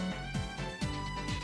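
Theme music from the Phoenix Wright: Ace Attorney video game series, a dense, steady stretch of music with sustained tones and repeating rhythmic accents, played continuously without talk.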